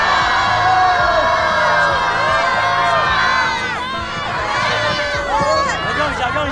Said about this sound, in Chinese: 那最后，各位拿出你们的欢呼声，再次欢送曲曼